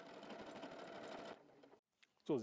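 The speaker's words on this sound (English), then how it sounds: "So, you see the machine stopped right after the 3 motifs because we didn't change the symbol." A W6 N 5000 Exklusive sewing machine stitches motifs in a steady, fast whirring run that cuts off abruptly, leaving near silence and then a brief voice.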